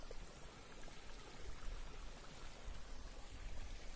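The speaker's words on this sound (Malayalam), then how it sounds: "വെള്ളം തീരെ കുറവാണ്, ചെറിയ ഒരു അരുവി പോലെ ഒഴുകുകയാണ്." A small, low-water stream trickles through forest near an oil palm plantation, a faint, steady broadband rush with soft gurgling and no voices.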